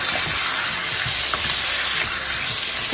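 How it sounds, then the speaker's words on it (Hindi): Chicken frying in a pan with white cumin gives a loud, continuous hiss and crackle up close, with no talking. "चिकन हमारा बहुत अच्छे तरीके से फ्राई हो रहा है"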